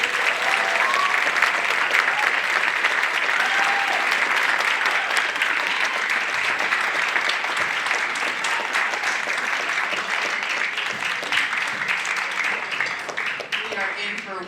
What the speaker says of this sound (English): I'd like, before we even begin, to give him a round of applause.